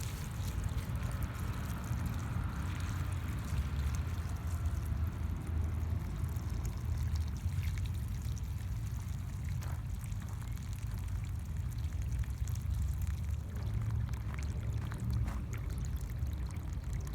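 Water is poured onto the soil around watermelon plants, giving a steady, full splashing rush that carries on without break, close and moderately loud, with no voices.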